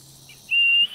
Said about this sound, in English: A whistle is a snipe's mating call.